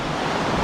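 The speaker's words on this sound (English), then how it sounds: "I see there's still rollers or big waves out there." Big rolling waves on Lake Michigan during a storm warning, heard as a steady, loud, close wash of surf with wind noise and no pause.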